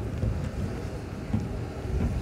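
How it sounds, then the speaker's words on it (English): Gusty wind buffets the microphone with a low, continuous rumble, no voices, only the roar of moving air. "It is also pretty windy"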